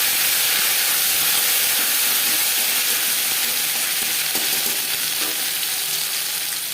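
Half a spoon of ginger paste and green chilli paste fries in hot refined oil, giving a loud, dense, close hiss and sizzle that stays continuous throughout, with faint stirring knocks and no voices.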